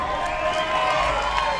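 A Little League baseball crowd at a regional North Carolina versus South Carolina game fills the air with steady applause and cheering, a broad continuous wash of sound from the stands, heard alone without breaks.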